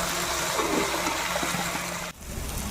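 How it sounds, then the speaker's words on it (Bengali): Water pours steadily into a pan of fish curry masala for a katla kaliya, a continuous rushing splash that stops abruptly near the end, leaving a quieter wash behind. "এবার আমি জল দিয়ে দিচ্ছি"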